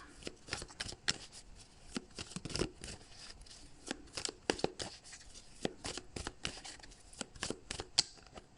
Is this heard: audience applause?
no